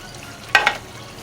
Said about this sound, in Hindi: और इसको फ्राई कर लेंगे अच्छी तरह।